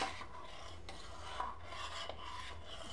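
Homemade sweetened condensed milk is stirred slowly in a pot with the heat off. A close, steady scraping and rubbing sound repeats in an uneven rhythm, with no talking.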